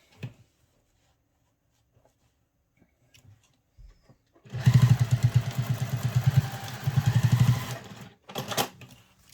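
A sewing machine bastes binding tape onto a travel satchel in one close, steady run of rapid stitching lasting a few seconds, followed by a short extra burst, with quiet handling sounds before.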